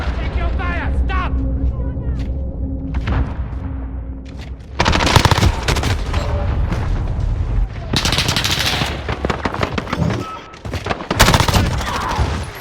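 MP5 submachine gun and Sykov automatic pistol firing in a video game: loud, dense bursts of rapid gunfire in several long volleys, with game voices calling out over the shooting.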